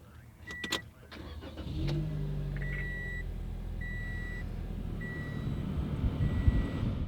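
A 2016 Scion iM car engine cranks and catches, settling into a steady, low idle that continues at close range after a few chime beeps and small handling clicks.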